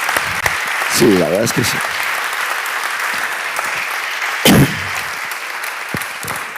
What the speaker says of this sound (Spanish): Un fuerte aplauso para Santiago, que es una maravilla